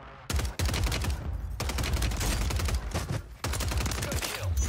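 SMG gunfire in the video game Warzone 3, loud rapid bursts in three long sprays separated by short pauses.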